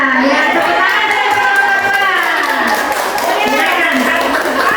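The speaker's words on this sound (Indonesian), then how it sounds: "tepuk tangan dari" Clapping rises from a class audience at a group presentation, under the steady voice of a talker and murmuring chatter throughout.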